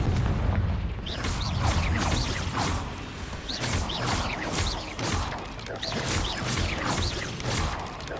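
Combat in Hogwarts Legacy with the Confringo spell exploding, heavy booms, crashes and whooshes piling up in repeated bursts over a dense rumbling game soundscape, loud and continuous.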